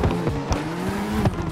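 A Simpsons car drifts in the CarX Drift Racing Online video game, its tires squealing in a sustained wavering whine over a steady engine drone, with no talk.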